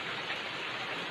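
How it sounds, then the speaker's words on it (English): Steady rain pours down outdoors, a dense, even hiss with no breaks, close and moderately loud. "it's raining"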